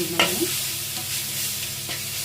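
Chicken liver and gizzard stir-fried in a pan, a steady close sizzle with sharp scraping stirs near the start and again toward the end, no voices.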